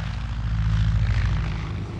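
Propeller airplane flying overhead in 1930s German archival film, a loud steady engine drone with a low rumble holding throughout.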